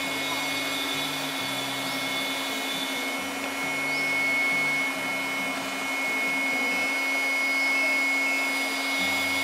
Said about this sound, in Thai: ทดสอบพัดลมใหม่ครับ